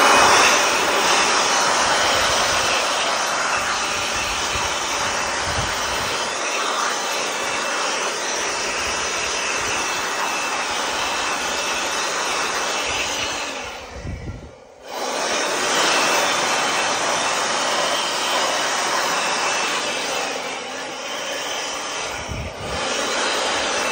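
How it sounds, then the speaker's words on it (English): A cordless Milwaukee leaf blower runs steadily and loud for the whole stretch, a continuous rushing whine with one brief cutout near the middle and a small dip toward the end, no talk over it. "I'm gonna clean it off with my Milwaukee blower here."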